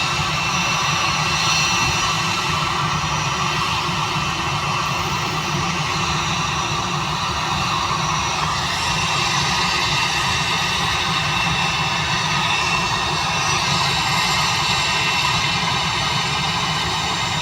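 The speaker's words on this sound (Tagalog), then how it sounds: "panoorin natin itong mga idol yung paglipad ng aeroplano" A passenger airplane's jet engines roar steadily through takeoff, a loud, dense, continuous rumble and hiss that fills the whole stretch without any voices.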